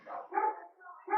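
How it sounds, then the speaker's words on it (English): Pet dogs bark at home during a live radio broadcast, giving a short burst of close, fairly loud barking that mixes with a talking voice over about a second. "My dogs are barking."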